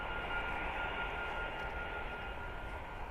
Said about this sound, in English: But no, sounds like it's taxiing.